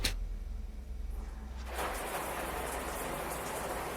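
Shower water in the video game Salt starts after a brief pause and becomes a steady, hissing rush like heavy rain, continuous and fairly close with no voices.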